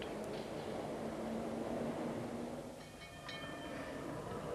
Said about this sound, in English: Some people go by underground.